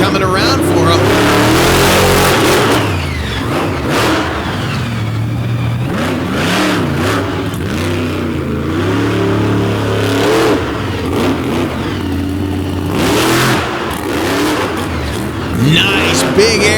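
Monster truck engine at a dirt arena show in Pennsylvania, revving in repeated loud surges and rising whines while an announcer talks over the roar.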